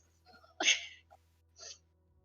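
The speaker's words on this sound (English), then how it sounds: "A sneeze." One person sneezes during a tabletop role-playing game session, a sharp explosive burst after a short intake of breath, followed by a smaller breathy sound, close to the microphone in an otherwise quiet room.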